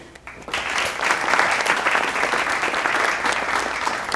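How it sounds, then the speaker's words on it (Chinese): A group breaks into steady, full applause after a teacher announces casting results from an acting competition, the clapping rising quickly and holding loud and dense throughout. "大家掌声鼓励"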